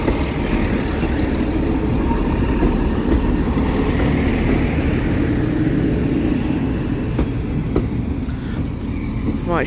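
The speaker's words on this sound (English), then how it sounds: "I'm gonna film this side again because there's another train." A train rumbles steadily past nearby at Barmouth South level crossing, a dense, continuous roar of wheels and rolling stock with no voices.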